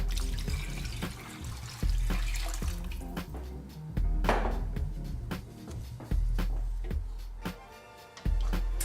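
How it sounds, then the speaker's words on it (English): Four cups of water poured into a cooking pot, heard as repeated splashing pours with pauses between, each starting with a burst and trickling off, close and clear with no talk. "we are also going to add 4 cups of water."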